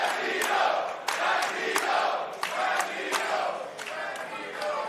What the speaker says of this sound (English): And you can hear the crowd cheering for Bandito.